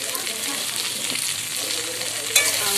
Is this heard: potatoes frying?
yes